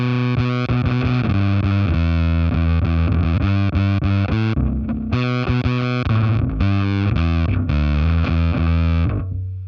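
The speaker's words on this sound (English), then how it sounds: "I'll turn the mid switch on so we're not cutting any of the mids. And I'll also take the thick switch all the way up." Bass guitar run through a Fender Pelt fuzz pedal with the mid switch on and the thick control turned fully up: thick, loud distorted riffing with sustained chunky low notes and a brief break partway through.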